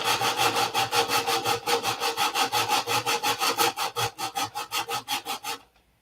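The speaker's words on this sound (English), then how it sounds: "We'll sand this side too," A surface being hand-sanded with steady back-and-forth strokes: about two dozen even, raspy scrapes in a regular rhythm, close and clear, with no talking, ending abruptly.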